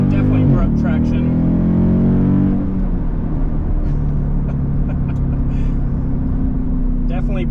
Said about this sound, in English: Putting in launch control. It's telling me to apply brake pressure. Full throttle.